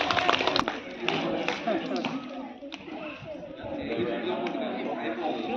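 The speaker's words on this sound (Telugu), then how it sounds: "మీ గట్టిగా చప్పట్లతో బొమ్మెర వైష్ణవి గారిని ఆహ్వానిస్తున్నాం" A crowd at a village rangoli competition in Domakonda applauds the first prize winner with steady, scattered clapping. Lively chatter and voices run throughout, and the applause holds at a moderate level rather than swelling.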